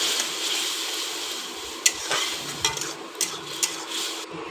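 Spice paste of ginger, garlic, tomato and green chilli sizzles and crackles steadily in a hot pan, with a few sharp scraping clicks of a spoon stirring it; no voices.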